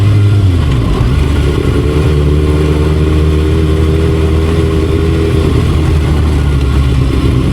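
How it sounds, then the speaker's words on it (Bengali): High-cc sport motorcycles, a Kawasaki ZX6R, Yamaha R1 and GSX-R, ride along a quiet, dusty hill road, their engines a loud, close, steady drone with a slight rise in pitch partway through; no talk. "আজকে হায়ার সিসি বাইক নিয়ে বের হয়েছি এগুলো নিয়ে যাইতেছি"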